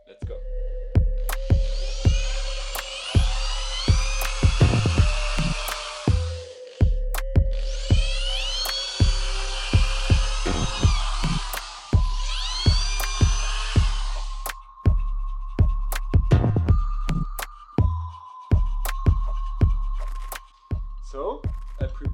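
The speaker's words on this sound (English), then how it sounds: "And now I will drill holes in these three parts." A drill bores holes in small knife handle parts in a workshop, with a loud whining motor that spins up and down in repeated runs, broken by sharp clicks and knocks, close and dominant throughout.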